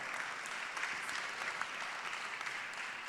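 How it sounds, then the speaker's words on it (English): An audience at a city policy meeting gives a round of applause, moderately distant, steady clapping with a few sharper individual claps standing out, no speech over it. "Let's give them a big round of applause."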